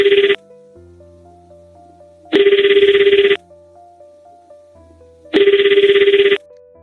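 A telephone bell rings in three loud bursts about a second long and roughly three seconds apart, with quiet low tones in the gaps and no voices.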